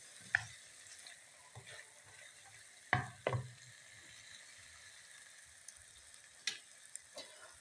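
Potato, pea and carrot vegetables fry in a pan with a quiet, steady sizzle, while a spoon stirs with a few sharp clinks and scrapes against the metal.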